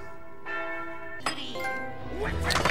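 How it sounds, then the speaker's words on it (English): Bells ring out in the Shrek video game: a sustained bell tone swells, then a sharp second strike layers bright ringing overtones, followed by further clanging chimes, loud and close without talk. "Ring them bells."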